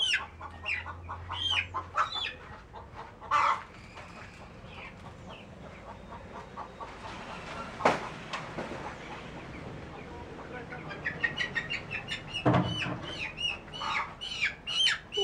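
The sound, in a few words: young chicken squawking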